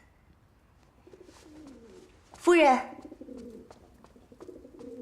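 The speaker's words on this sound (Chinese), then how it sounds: "鸽子。" A carrier pigeon coos softly in a period palace setting, low throaty burbling repeated near and gentle, interrupted by a brief louder burst as someone speaks a single word.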